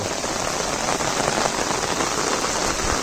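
Heavy monsoon rain pours down steadily in Konkan, a dense continuous hiss of drops drumming on surfaces, close and loud with no voices.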